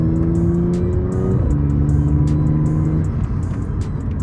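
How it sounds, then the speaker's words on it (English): A high-mileage, stock Audi with an intake pulls along a straight, its engine drone steady and loud from inside the cabin, dropping pitch once as it shifts, with no talk. "we're gonna hit some straights now and kind of enjoy how well the car sounds"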